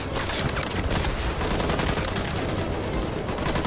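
Dense covering gunfire rattles continuously in the Detroit: Become Human video game, a loud, unbroken barrage of rapid shots with no talk over it.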